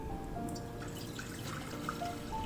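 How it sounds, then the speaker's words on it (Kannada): Water poured into a pressure cooker for cooking pav bhaji vegetables, a soft trickling and dripping stream that runs steadily, faint against low kitchen background noise. "ಅದರಲ್ಲಿ ನೀರು ಹಾಕ್ಕೊಳ್ಳೋಣ."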